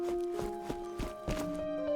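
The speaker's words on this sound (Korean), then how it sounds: "발소리가..." Footsteps in the DNF Duel fighting game: a series of soft, evenly spaced thuds over a steady droning tonal background music bed.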